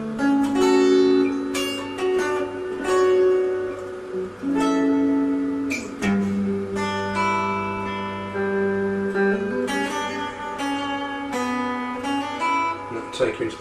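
Electric guitar plays a verse fill from a song, a steady run of picked chords and melodic notes with ringing sustain, loud and close, with no talking over it.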